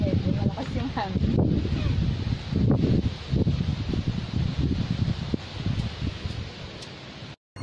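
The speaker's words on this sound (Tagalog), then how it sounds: "Medyo mahangin, kaya hindi pala medyo malakas yung hangin." Strong wind gusting across an outdoor shrine, a loud steady broadband rush with buffeting on the microphone that continues almost without a break, and a voice speaking over it.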